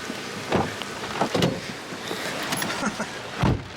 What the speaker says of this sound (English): I tell you, it's raining out there.